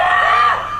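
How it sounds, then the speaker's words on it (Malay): A person in a frenzied, possessed-like state lets out a short, loud, high-pitched scream that fades after under a second. "dia menjerit"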